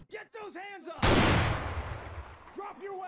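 One close, loud shotgun blast firing a stun round in ArmA 3, a sharp boom with a decaying tail, set between stretches of someone talking.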